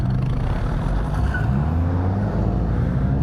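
A group of about eight Dodge Viper sports cars drives along a mountain road, giving a loud, continuous low engine drone close by with a gentle shift in pitch and no talking.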